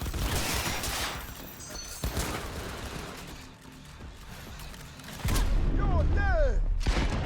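Bursts of gunfire ring out in a video game, loud broadband shots clustered at the start and again toward the end, mixed with game voice lines and a rising chirping effect.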